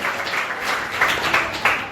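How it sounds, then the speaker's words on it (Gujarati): Students in a high school classroom in Vadodara clap together in a short burst of applause, brisk and fairly loud, with a few sharper claps standing out near the end. "તાળીઓથી વધાવો કરો."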